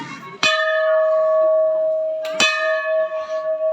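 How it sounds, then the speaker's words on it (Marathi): Twice a metal temple bell is struck at a Shiva temple, each clear, bright strike ringing on with a long, steady hum. The bell is close and loud, with no talk over it. "घंटा वाजवला आणि आता पण आतमध्ये जाऊया."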